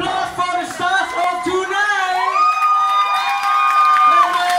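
A crowd cheers and whoops with scattered applause at a wedding celebration in Singapore, a loud, sustained, lively roar that fills the room as excited voices and shouts rise over it.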